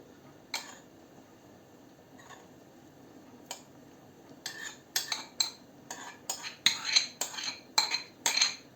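Metal utensils clink and scrape against a pot as greens go into green borscht, a few sparse taps at first, then a quick run of sharp clatters and stirring knocks close by.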